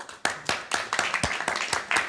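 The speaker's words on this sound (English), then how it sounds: "A round of applause for KLC." A round of applause in a city council meeting room, roughly a dozen distinct claps in a steady rhythm, moderately faint and close, with no voices over it.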